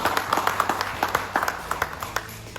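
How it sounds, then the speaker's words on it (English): An audience claps for guests at a South Asian Heritage in Wales event, scattered hand claps in a loose patter at moderate volume, with faint murmuring voices beneath. "Round of applause."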